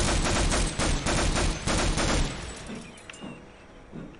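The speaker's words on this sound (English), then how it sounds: "Stand there and let me shoot you." Dense bursts of automatic gunfire in Half-Life, loud and rapid for about two seconds, then fading into quieter scattered sounds and a few faint knocks, with no speech.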